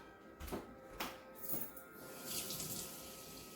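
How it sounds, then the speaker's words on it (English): Tap water runs into a cup in a kitchen, a steady splashing stream that rises in pitch as the cup fills, with a few knocks and clatters at the start. "Half a cup of water, so let me go get that."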